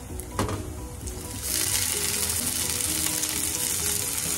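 Food frying in a pan until golden brown for shrimp with broccoli, a close, steady sizzle that swells louder partway through and continues evenly to the end.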